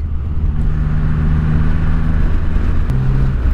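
Triumph Rocket motorcycle riding at speed, a steady deep engine drone with low rumble and wind noise, close and continuous with a slight pitch shift near the end.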